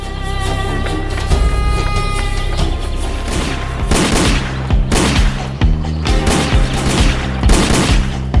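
A gunfire sound effect in a Zagor audio drama: repeated loud booming volleys of shots crash in one after another over a sustained musical backdrop, close and forceful.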